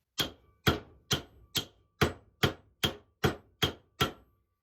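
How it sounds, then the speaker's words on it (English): An epoxy-glued knife test piece is smashed against the anvil of a bench vise: ten sharp, loud impacts at a steady, even rhythm, each with a short ringing decay, with no talk. "I'm going to take each of these and smash them on my anvil of my vise here and see if they pop off."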